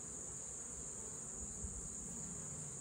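Honey bees hum in a steady, dense buzz around an open beehive during a hive inspection, close and continuous without pauses.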